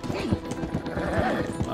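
A horse in the video game Red Dead Online neighs and clip-clops at a gallop, the hoofbeats quick and close, with a whinny rising partway through and a busy game mix behind.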